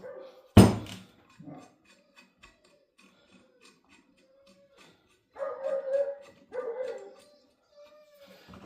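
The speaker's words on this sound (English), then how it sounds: "There is apparently a dog outside." A dog barks outdoors in short bursts, faint and distant at first and then louder near the end, mixed with a sharp close thump and scattered ticking workshop sounds.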